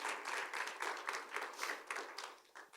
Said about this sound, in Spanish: Dale un aplauso, John.